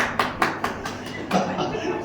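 A short spell of scattered clapping from a church congregation at a Sunday Bible meeting, several sharp irregular claps spaced unevenly, fairly faint and thin, with a voice speaking over them.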